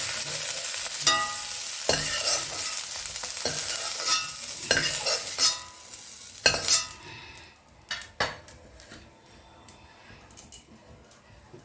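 Cauliflower florets fry in oil with a strong sizzle and the scrape and clink of a metal utensil against the pan. Midway the sizzle drops away, leaving scattered close clatter.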